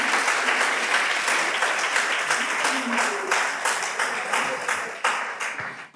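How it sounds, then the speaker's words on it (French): An audience applauds the speaker's wife at a talk on farming without chlordecone risk, with dense, continuous clapping that stays strong throughout and fades slightly near the end. "je vais vous demander de l'applaudir"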